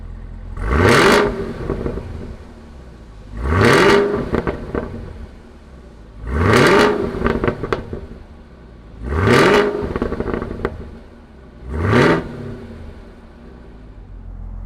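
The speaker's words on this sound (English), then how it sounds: "Let's go ahead and fire up the ZL1 and see what it sounds like." A 2019 Chevrolet Camaro ZL1 with a 10-speed automatic, revved five times in an even rhythm, each a deep loud rising roar that falls back to a rumbling idle, heard close with no talking.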